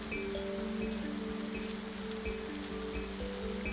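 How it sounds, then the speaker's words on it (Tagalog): Steady rain pours down in a dense, continuous hiss, with a low tonal hum running underneath throughout. "habang walang tigil ang pagbuhos ng ulan"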